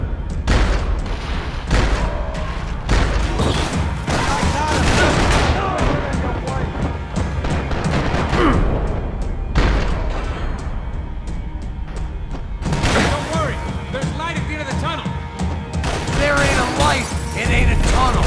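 Video game gunfire in Max Payne 3: loud bursts of rapid shots and heavy booms come in waves with short gaps between them, while voices shout over the fighting.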